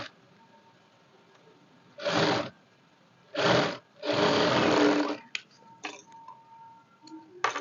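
A sewing machine stitches folded-in blouse fabric on a quarter-inch seam in three short bursts, the longest about a second, with quiet ticks and clicks between runs.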